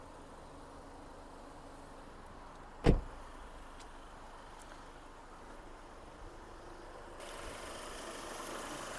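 A Mercedes-Benz C-Class 1.8 supercharged engine idles steadily at low level, with a sharp thump partway through, like a door or hood closing, and background noise rising near the end.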